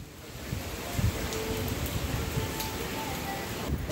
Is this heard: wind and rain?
yes